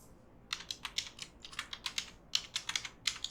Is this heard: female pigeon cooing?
no